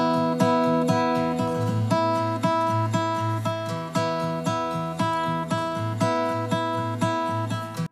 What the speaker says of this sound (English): So I started by recording this acoustic guitar that sounds